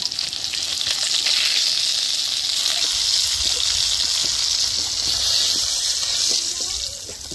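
Pangas fish frying in hot oil gives a steady, loud sizzle with a bright hiss and scattered crackles that holds for the full length, fading slightly at the end.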